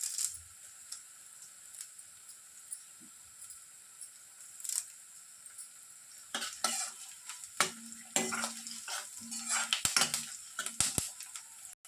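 Chopped onions fry in a pan with green chillies and fresh curry leaves, a faint sizzle under intermittent scraping and clinking stirring that grows louder and busier toward the end.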